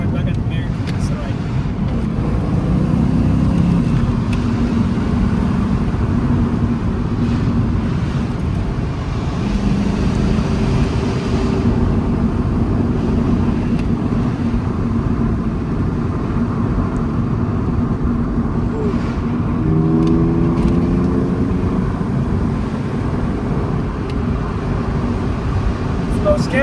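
A Ford Mustang cruises along a road, its engine and tire roar a steady loud drone heard from inside the cabin for the whole stretch, with people talking over it.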